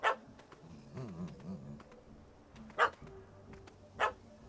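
A dog barks in The Witcher 3: Hearts of Stone, a few sharp, separate barks and yips near the start and again toward the end, with softer whimpering and game ambience between.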